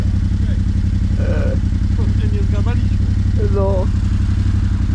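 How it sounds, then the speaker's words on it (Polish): A motorcycle engine idles close by with a loud, steady low rumble throughout, while someone speaks briefly over it. "to jadę i biorę motor"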